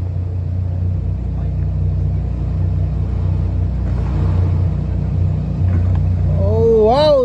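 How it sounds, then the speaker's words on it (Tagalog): A vehicle drives off the MV Juliana ship, a loud, steady low engine rumble that swells slightly midway, with a voice briefly calling out at the end. "Ganun lang po kasimple ang pagbaba ng sasakyan"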